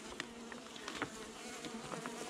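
Honey bees buzz in an opened hive during a mid-February winter check, a faint continuous hum dotted with closer individual buzzes, with soft clicks and rustling of hive work.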